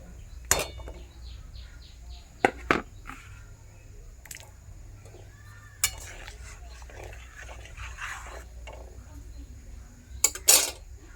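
Chopped raw vegetables are tipped into a pot of dal, with scattered sharp clinks of a utensil against the pot and soft, wet plopping and squishing sounds spread across a fairly quiet stretch.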